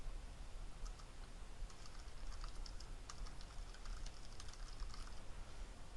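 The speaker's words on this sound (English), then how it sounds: "I type in a comment" Steady computer keyboard typing in the GNOME desktop while entering a comment, soft dense keystrokes over a constant hiss of background noise, no voices.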